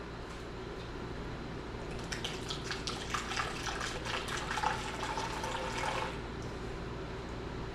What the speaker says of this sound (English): Just gonna put some water in it for now.